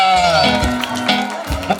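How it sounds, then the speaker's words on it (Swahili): Guests at a wedding send-off party ululate with a high, wavering trill, mixed with cheering and crowd noise in a brief, loud burst. "vigelegele na shangwe"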